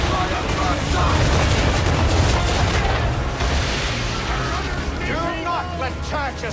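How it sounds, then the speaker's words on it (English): Ship cannons roar in a sustained broadside during a naval battle in Assassin's Creed 3, a dense rumbling barrage of booms that fades slightly, with shouted voices over the end. "Fire broadside!"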